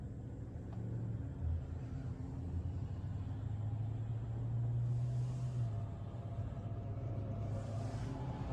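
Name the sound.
Tesla car driving itself in self-driving mode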